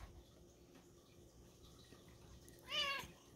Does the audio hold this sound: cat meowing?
yes